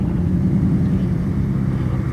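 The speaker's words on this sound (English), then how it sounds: "Gliding into view Citroen DS." A classic Citroen DS drives slowly past at an outdoor classic car show, its engine a steady low rumble close by, with faint crowd ambience around it.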